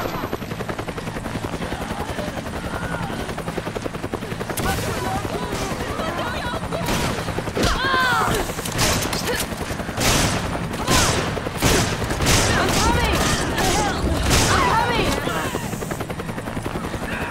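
Repeated bursts of rapid gunfire crack over a steady helicopter-like rotor drone in Resident Evil 5, with booming shots growing denser and louder toward the middle and end.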